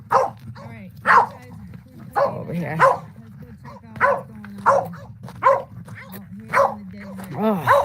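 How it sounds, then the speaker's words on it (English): A dog barks repeatedly outdoors on a calm desert day, loud, close, evenly spaced yips and woofs, with a person speaking briefly between barks. "We can't take a barking dog constantly."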